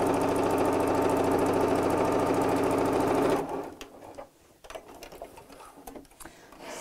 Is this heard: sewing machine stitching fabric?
yes